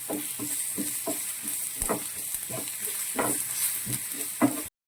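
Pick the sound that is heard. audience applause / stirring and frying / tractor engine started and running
stirring and frying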